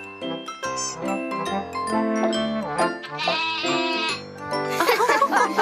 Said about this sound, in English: Come on, little goat.